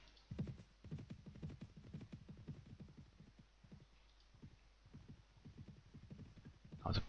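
Horses carrying riding Cossacks and Swedes in Mount & Blade: With Fire & Sword clip-clop in a steady, overlapping patter of hoofbeats, moderately loud and close, with no talk.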